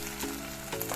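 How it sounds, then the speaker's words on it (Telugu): Spices sizzle and fry in a pan for egg dum biryani, a steady soft crackle with faint clinks, close and moderately quiet, with no voices. "ఇది పచ్చివాసన పోయేదాకా ఫ్రై చేయాలండి"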